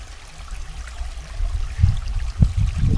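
Water runs at a water-driven mill in Uniondale with a low, steady gurgling flow, and a few louder splashes and sloshes come near the end.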